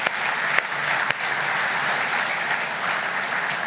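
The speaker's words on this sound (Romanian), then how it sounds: "Haideți să-i aplaudăm." A church congregation at a baptism service claps together in dense, steady applause that holds at an even level throughout, with a couple of sharper single claps standing out near the start.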